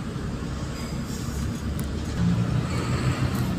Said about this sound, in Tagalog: Daming sasakyan, sabay-sabay ang luwas.